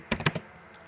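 Four quick keystrokes tap out on a computer keyboard in a close, clicky burst, then fall silent.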